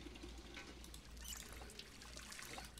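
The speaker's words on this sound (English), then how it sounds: "We fill also the kettle." Water pouring into a kettle in the survival game Project Zomboid, a soft continuous trickling stream that stays quiet and steady for a few seconds, with no voices over it.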